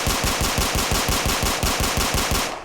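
Rapid bursts of gunfire from a Beretta 92 service pistol in a Fallout 4 mod, roughly a dozen sharp, evenly spaced shots in quick succession, loud and alone, fading at the end.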